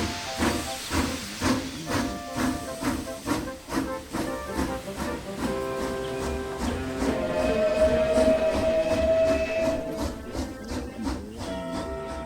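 Steam engine Emily puffing steadily with rhythmic chuffs and hissing steam, accompanied by a continuous musical backing, with no talking.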